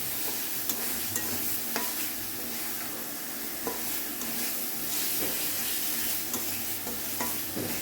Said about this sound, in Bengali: মশলাটা খুব সুন্দরভাবে কষিয়ে নেওয়া